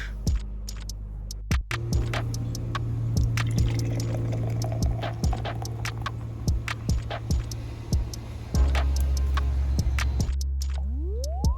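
Great Notion sour beer pours from a can into a glass with a steady liquid gurgle and fizz, close and clear, punctuated by sharp clicks and a final glassy clink.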